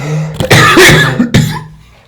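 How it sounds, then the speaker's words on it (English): A man coughs hard in a few loud, harsh bursts close to the microphone, with a short pause between the fits and a faint low hum underneath. "I'm coughing like a bitch."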